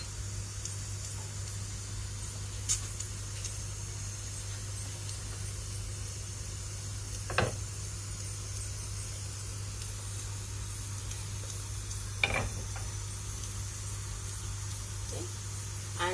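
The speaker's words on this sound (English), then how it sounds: "So now let's start with the frying process" Spices, half a teaspoon of each, frying in a pan for a Kerala egg curry give off a steady, even sizzling hiss, with a few faint clicks scattered through it and no talking.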